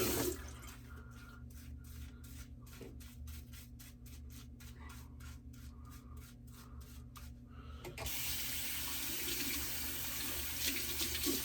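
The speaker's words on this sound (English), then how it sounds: "I'm going to wet down this side of the face a little bit more again." A bathroom tap runs steadily as water wets the face before a straight razor beard shave, a close, continuous hiss and splash that briefly fluctuates and then grows fuller and louder toward the end. No talking.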